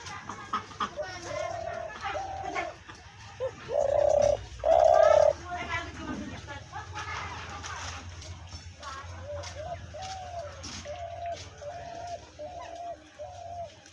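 A decoy dove kept for hunting coos in a steady series of soft, hollow, evenly spaced calls, with a few louder coos up close and a string of quieter ones later, over faint background noise.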